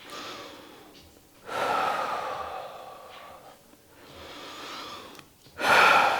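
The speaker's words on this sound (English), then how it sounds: "Gotta get my breathing under control." Heavy breathing after a calisthenics workout: loud, ragged inhales and exhales near the microphone, a few long gasping breaths with quieter pauses between them and a forceful final exhale.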